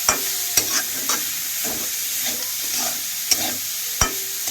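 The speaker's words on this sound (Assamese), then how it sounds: "এতিয়া কলডিলখিনি দি দিম। ধুনীয়াকৈ লৰাই দিম।" Banana flower being stirred in a hot pan for a home-style meat curry, steady sizzling and frying under repeated scraping strokes of a spatula, with a few sharp clinks against the pan.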